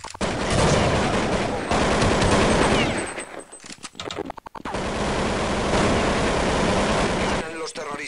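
Heavy rapid-fire gunfire in an online shooter match, loud continuous bursts with a short break of scattered single shots midway before the barrage resumes, voices faintly beneath.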